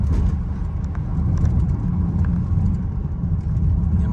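A 2012 BMW X5 E70 40d with the N57 diesel engine drives under gentle acceleration, a steady low engine and road rumble heard from inside the cabin, even and continuous throughout.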